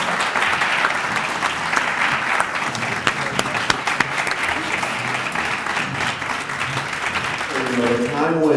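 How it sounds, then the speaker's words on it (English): Sustained applause from an audience at a legislative breakfast honoring Zelig Friedman and the Tanzers, steady dense clapping that lasts throughout with a few louder sharp claps, while a voice begins over it near the end. "please give a very special thank you and an applause to Zelig Friedman and the Tanzers"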